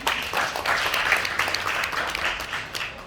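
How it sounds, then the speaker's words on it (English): A room of listeners claps for Eric in a steady, moderately loud round of applause that rises and dips slightly over a few seconds, with no voices. "A round of applause to Eric again."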